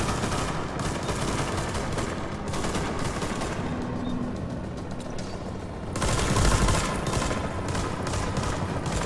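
Gunfire in the PS4 video game The Division, dense rapid bursts of shots over a rumbling game soundscape, growing heavier and louder toward the end.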